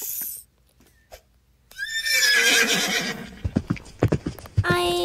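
A video game horse whinnies loudly, then hooves clop in a quick uneven run, followed by another sharp neigh; faint talking sits underneath.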